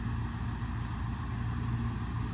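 An old RV engine that sat unused for over two decades idles quietly at close range, with a steady low rumble and an even mechanical hum and no talking.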